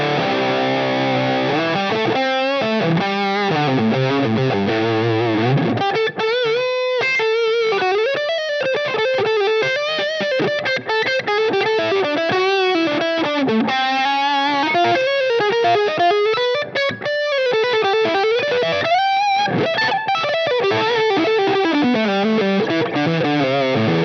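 Heavily overdriven electric guitar tone from a Line 6 Helix, with a preamp-only block driving the Z amp hard. Dense, saturated chords and single notes play continuously and loudly for the whole stretch, with no talking.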